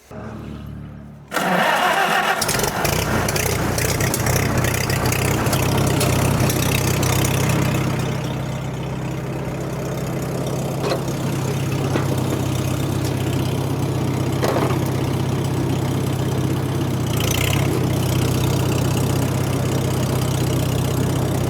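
A Farmall H tractor engine cranks and catches after a brief pause, then settles into a steady, loud idle with a low rumble and occasional knocks.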